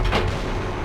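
A single heavy weapon blast from a mech in MechWarrior 4 booms sharply and then trails off into a rumbling tail within a second.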